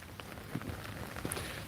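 Rain falls in the UK as a faint, steady patter on surfaces, with a few scattered drips and no voices over it.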